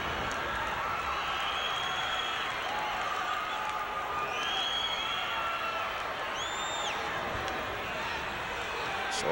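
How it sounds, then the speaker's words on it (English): A packed 1983 Southwest Championship Wrestling crowd roars for Tommy Rich with steady cheering, applause and scattered whoops, a dense, continuous wall of noise from start to finish. "Tremendous crowd on hand cheering the Wildfire Tommy Rich."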